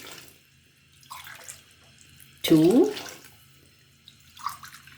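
Water poured into a bowl of curd and flour batter for a South Indian mor kali, a short gurgling splash in the middle, with brief speech before and after and faint kitchen noise.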